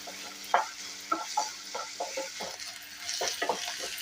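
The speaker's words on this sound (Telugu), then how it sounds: "ఈ ఉల్లిపాయ ముక్కల్ని గోల్డ్ కలర్ వచ్చే వరకు ఫ్రై చేసుకోవాలన్నమాట" Chopped onion pieces frying gently in oil on a low flame, with a soft steady sizzle and a series of stirring scrapes spaced irregularly through it.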